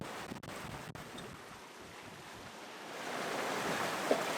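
Ocean waves wash around a sailing boat crossing the Little Bahama Bank, a loud rushing hiss of surf and spray that swells toward the end, mixed with gusty wind.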